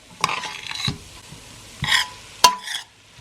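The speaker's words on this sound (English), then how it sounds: "we've added our onions. What we're going to do is cook these things until they're nice and mixed" Onions cook in a pan for lasagna while a utensil stirs them. There are a few scraping strokes and clinks against the pan over a faint sizzle, close up and with no talking.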